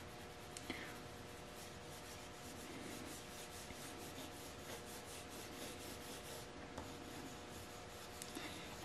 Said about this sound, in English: I'm just holding my pencil crayon on the side